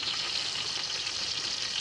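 Cashews and raisins frying in ghee in a pan give off a steady, soft, continuous sizzle throughout, with no talking.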